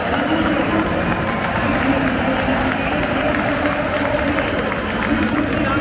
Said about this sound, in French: Et il a été scandé, applaudi énormément par l'entièreté du stade.